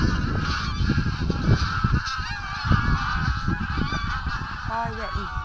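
Greylag geese honk repeatedly at a reservoir, a dense, continuous chorus of overlapping nasal calls, fairly loud and close, with a few clearer honks near the end.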